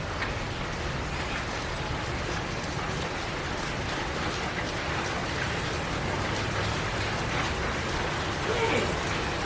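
Heavy monsoonal rainstorm pouring down, a dense steady hiss and patter of rain on surfaces, constant and fairly loud throughout, with a faint voice near the end.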